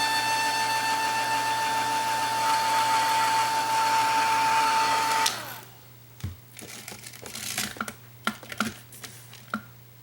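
A hair dryer whirs steadily at close range while drying acrylic paint on a canvas, then cuts off abruptly about halfway through, followed by light rustling and tapping sounds.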